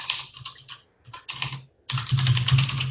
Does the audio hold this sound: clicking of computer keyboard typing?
yes